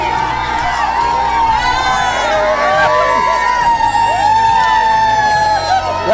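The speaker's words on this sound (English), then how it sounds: "Look at this crowd of children." Crowd of around 200 children shouting, cheering and whooping at an orphanage in Moldova, a loud, continuous excited din with high voices overlapping throughout.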